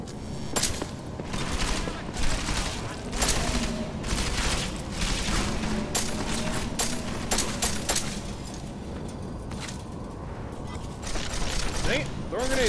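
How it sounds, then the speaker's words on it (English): Grenade blasts and rapid gunfire from the game Deus Ex: Mankind Divided, dense bursts of shots and booms running continuously and loud, with voices talking over the combat. "Oh, they threw a friggin' grenade!"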